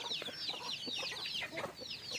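Native Thai chickens cluck and chatter in an orange orchard, a steady overlapping stream of close, busy calls with no talking.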